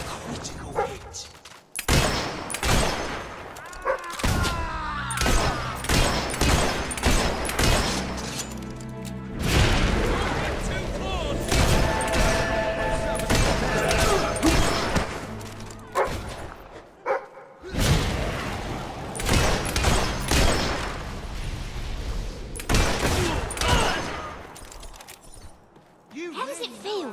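Gunfire in Fable 3 rings out as repeated loud, close bursts of shots and impacts in uneven clusters, with a few short gaps, mixed with game voices and effects throughout.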